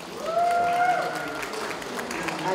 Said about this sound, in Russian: Давайте наградим бурными аплодисментами судей и Клоидора